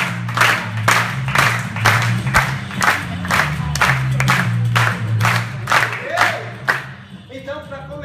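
A studio audience at a live stage show claps in a strong, regular rhythm of loud unified beats with cheering mixed in, then the clapping stops and a voice takes over near the end.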